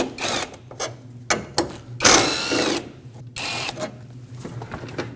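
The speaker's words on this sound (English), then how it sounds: "Remove those bolts." A ratchet backs out 10mm bolts on the air intake duct of a 2.5L four-cylinder Nissan Frontier, heard as close, loud bursts of whirring clicks broken by short pauses.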